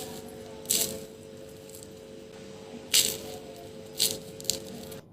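Crispy fried puffed-rice vada, made without urad dal, crunches in three sharp, crackly bites spaced a second or two apart, close and clear over a faint steady hum.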